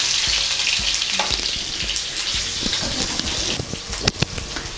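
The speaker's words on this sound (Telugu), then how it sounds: "కొంచెం జీలకర్ర కొంచెం ఫ్రై అయ్యాక వెల్లుల్లి, ఎండుమిర్చి," Cumin, garlic and dried red chillies fry in hot oil for a red chilli pickle, giving a steady close sizzle with crackles and occasional stirring clinks and scrapes throughout.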